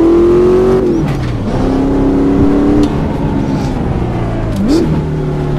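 A race car in a racing simulator accelerates out of the Silverstone or Montreal pit lane, its engine note rising in steady tonal sweeps with brief dips at gear changes, loud and continuous throughout.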